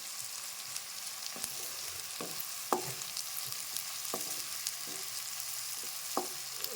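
Prawns and tomato frying together in a pan, a steady soft sizzle running throughout with a few sharper stir clicks and pops close by, no voices.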